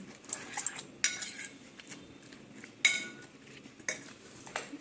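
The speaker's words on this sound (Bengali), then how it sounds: "চলো এইগুলোকে সব সুন্দর করে একসঙ্গে ফেটিয়ে নিচ্ছি টমেটো দিয়েছি পেঁয়াজগুলি দিয়েছি আর পেঁয়াজ পেঁয়াজ দিয়েছি কাঁচা লঙ্কা দিয়েছি" A fork or whisk clinks against a bowl while beating eggs with chopped tomato, onion and green chilli, giving scattered sharp metallic taps over a quiet kitchen background, with no talking.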